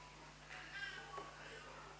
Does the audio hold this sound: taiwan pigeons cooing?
no